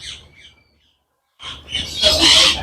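Parrots and a few foreign pigeons call and chirp in a loose flock, with a short burst of bird calls, a brief lull, then a louder, denser chorus of screeching calls close by.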